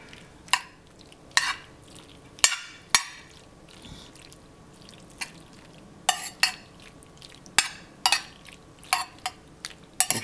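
A utensil stirs macaroni noodles with butter in a pan, giving scattered clinks and scrapes against metal in irregular bursts with soft, wet mixing sounds between.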